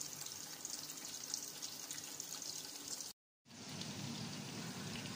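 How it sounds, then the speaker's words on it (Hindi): Chicken necks fry in hot oil with a dense, steady sizzle and crackle, briefly cutting out before resuming at the same level. "देखें हमारी ये जो नेक थी कितने अच्छे से फ्राई हो रही हैं"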